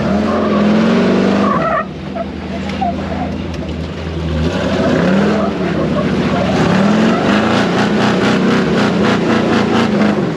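A Jeep in two-wheel drive strains up steep slickrock, its engine revving loud and continuous with rising and falling pitch and a scrabbling, skidding tire sound partway through.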